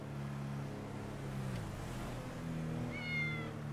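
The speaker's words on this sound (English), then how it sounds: "Oh my God, the meowing." Cat meowing loudly inside a car, a drawn-out call rising near the end over a steady low engine hum.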